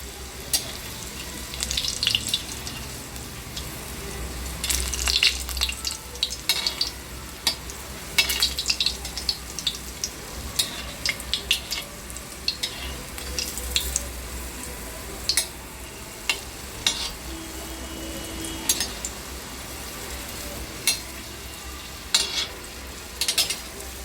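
Four wheat-flour modaks deep-fry in hot oil, giving a continuous bubbling sizzle with frequent crackling pops and occasional stirring scrapes, close and moderately loud, with no one talking.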